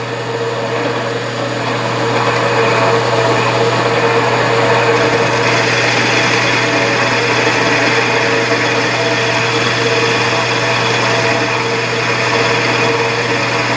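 A milling machine takes a reverse boring cut on a scissor knurl part, producing a loud, continuous close-up machining drone with a steady hum beneath it for the whole stretch, and no talking.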